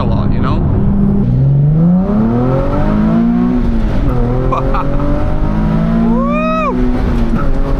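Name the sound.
tuned Nissan 370Z V6 car accelerating, tires squealing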